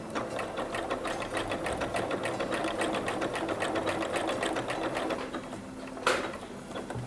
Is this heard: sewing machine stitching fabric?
yes